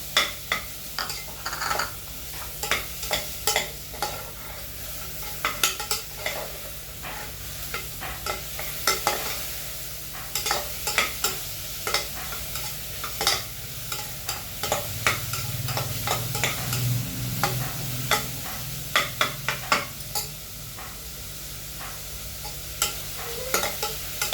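Tomatoes being stirred and fried in a pan for a green gram and bottle gourd gravy: rhythmic scraping strokes of the spoon over a continuous sizzle, no talking.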